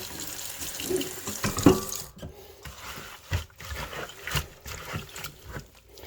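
Running cold tap water splashes over fresh basil leaves in a sink, with soft rustling and handling noises as the stream is interrupted.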